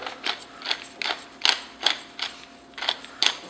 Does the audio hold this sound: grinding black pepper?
yes